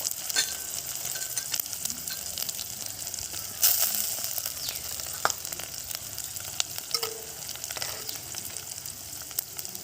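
Moong dal fries in a pan with a continuous soft sizzle and crackle, broken by scattered clicks and scrapes of stirring, close but fairly quiet, with no talking.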